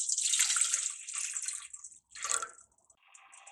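Water pours into a pan on the stove for rice flour dough, a hissing splashing stream that thins out, pauses briefly, then gives a short second pour and a few faint trickles.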